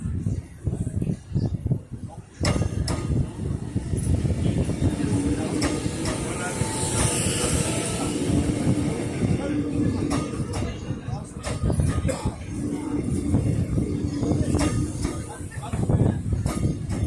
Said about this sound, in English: We've got the Flinders Street service arriving on platform number 1.